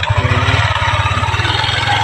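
A motorcycle engine runs close by with a rapid, steady low pulsing putter, loud and alone without talk.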